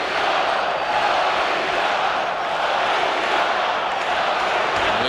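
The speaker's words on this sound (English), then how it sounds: "Listen to this crowd." Loud, dense roar of a packed hockey arena crowd cheering at a 1996 NHL playoff game between St. Louis and Toronto, a steady wall of voices sustained throughout.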